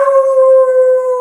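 A dog lets out a single loud, sustained howl on a steady, clear pitch, heard alone and close by for just over a second.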